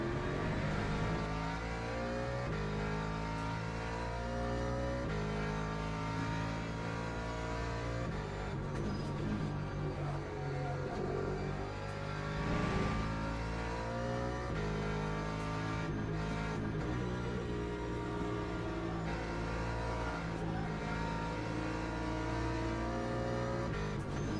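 Race car engine in Le Mans Ultimate at Fuji, a loud continuous roar with rising and falling harmonic sweeps as revs climb and drop through gear changes and braking over about twenty-four seconds, with no talk.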